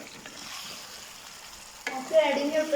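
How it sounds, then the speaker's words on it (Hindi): Potatoes being stirred into aloo chicken in a pan, a soft scraping and sizzling that grows louder and busier near the end as the mix is turned. "ये आलू इसमें ऐड करने के बाद एक दफ़ा इसको अच्छी तरह मिक्स कर लेना है आपने"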